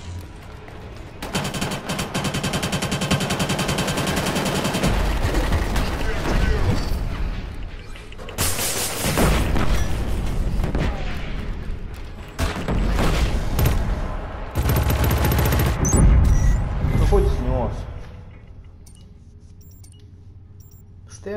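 Heavy bursts of gunfire and booming grenade explosions from the game Killzone Shadow Fall multiplayer repeat in waves, loud and close, with rapid automatic fire between the blasts.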